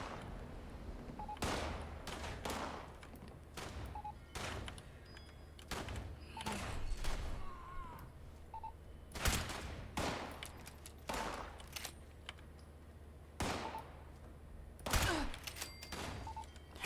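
Gunfire in Fallout 76, scattered sharp shots cracking out at irregular intervals over about seventeen seconds, some in quick pairs and clusters, fairly faint overall with a low background hum.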